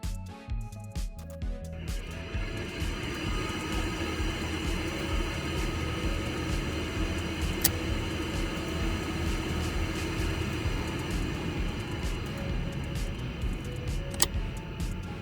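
A retrofitted Passat CC ventilated seat fan in a VW Golf MK6 2.0 running on its highest setting, giving a steady, continuous airy whir with a low hum underneath, starting after a brief click and holding constant.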